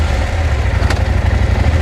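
A KTM 890 Adventure R motorcycle with a factory Akrapovic exhaust idles after starting, with a steady, throbbing low rumble throughout, loud and close.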